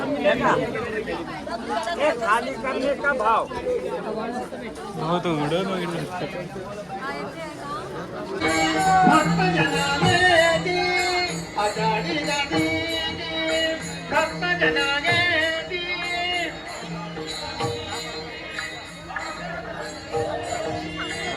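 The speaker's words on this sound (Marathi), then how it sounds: "लय बेकार गर्दी आहे" Dense crowd chatter fills a busy village fair (jatra) in Ratnagiri, a steady wash of many overlapping voices close by, with music-like tones rising into the din about a third of the way through.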